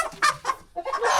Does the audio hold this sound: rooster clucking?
yes